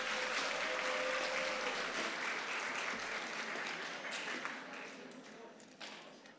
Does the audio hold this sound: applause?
yes